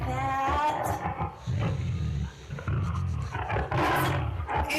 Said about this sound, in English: It's a tiger!